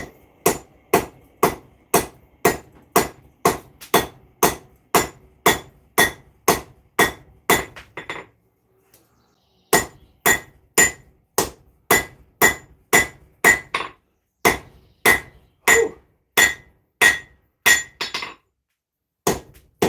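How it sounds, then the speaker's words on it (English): Hot metal is hammer forged with sharp, ringing blows in a fast, steady rhythm, close and loud, about fifteen strikes, a brief pause, then another run of strikes. "And this should be hot so we can keep forging."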